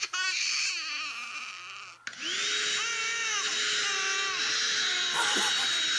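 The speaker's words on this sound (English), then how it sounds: "there are even videos of babies being calmed by vacuum cleaners" A vacuum cleaner roars steadily and loudly while an infant cries and wails over it.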